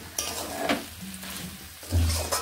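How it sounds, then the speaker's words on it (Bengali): Fried potatoes being stirred into cooked-down spices in an oily pan for a pabda fish curry, with a few scraping stirs and clinks of the spoon over a soft, steady sizzle. "এবার আমি এখানে ভেজে রাখা আলুগুলোকে দিয়ে দিচ্ছি। আলুর সঙ্গে মশলাগুলো মিশিয়ে"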